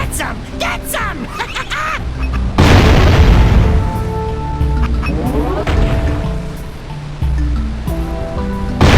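A cannon fires in the Jak and Daxter: The Precursor Legacy video game, a loud booming blast followed by a rolling explosive rumble and surf-like noise, set over game music with brief voices before it.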